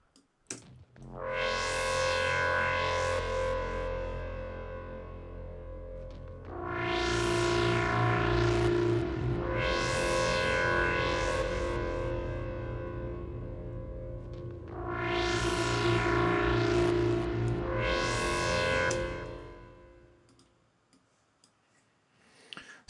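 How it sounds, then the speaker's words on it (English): Reverb delay adjusted in Logic Pro X turns a synth tone into bright swooping sweeps that rise and fall in three long sustained bursts, separated by brief quieter gaps, with no talking. "I'm just changing the reverb delay"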